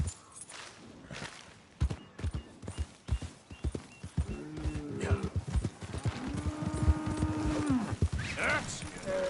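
Video game horse hooves clip-clopping at a steady pace, close and prominent, mixed with game music and effects, with brief talk over them.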